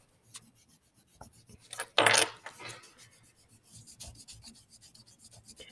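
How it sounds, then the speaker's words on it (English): A pencil eraser rubs back and forth across paper on a drawing, giving soft, close scratchy strokes with one louder burst partway through, then quieter intermittent rubbing. "just very carefully erase back and forth"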